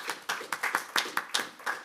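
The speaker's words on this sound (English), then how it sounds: "So please join me in applauding yourselves for our 122nd AGM." Sparse clapping at an annual general meeting, a small number of hands striking in a loose, uneven rhythm, close and fairly quiet.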